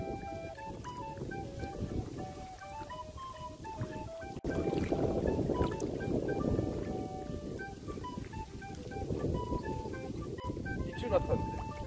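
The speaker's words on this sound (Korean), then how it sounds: "바람이 엄청납니다, 여러분들." Strong, gusty wind roars steadily across the microphone outdoors on a bass-fishing trip in harsh, cold conditions, with loud buffeting throughout and a person talking under it.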